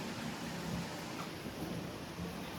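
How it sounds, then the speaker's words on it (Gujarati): Wind-driven rain roars steadily and loudly during a windstorm in Gujarat that sends things flying, a dense unbroken hiss of gusting storm with no voices. "અહીંયા એટલું બધું વાવાઝોડું છે, જો બધું ઉડે છે"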